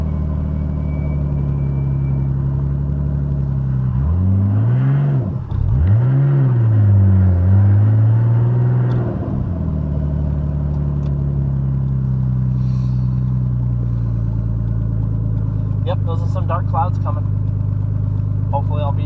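A 1996 Nissan Skyline GTS25t Type M engine rumbles close and loud, revving up and down mid-clip before settling to a steady drone, with someone talking over it and brief higher clicks near the end.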